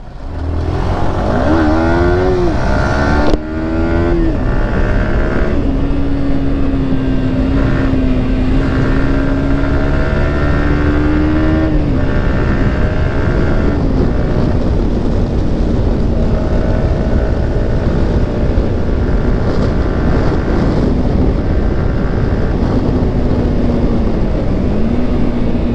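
A motorcycle engine in a street drag race against a 250 cc bike, droning loud and close with rising and falling revs and gear changes over steady wind rush.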